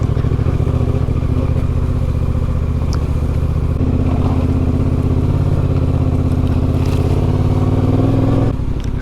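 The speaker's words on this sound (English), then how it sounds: "I'm on a fully loaded adventure bike." A fully loaded adventure motorcycle rides steadily on a bush trail, its engine droning loud and constant with a low rumble and some clatter throughout.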